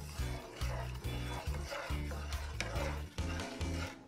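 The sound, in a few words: stirring cream of wheat in a pot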